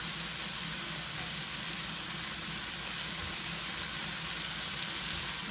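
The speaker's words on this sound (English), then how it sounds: "All I'm doing is searing it so that all the red come out of it." Beef strips searing in a hot pan for stroganoff, a steady soft hiss and crackle of frying that stays even and fairly quiet throughout.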